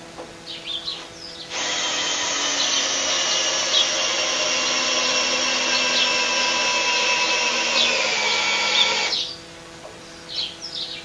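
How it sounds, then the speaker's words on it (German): Power screwdriver driving two screws through a board into a wooden beam at a barn passage, one steady whirring run lasting several seconds, fairly close and loud, with faint birdsong before and after. "so schraube ich das jetzt an die Wand fest mit 2 Schrauben"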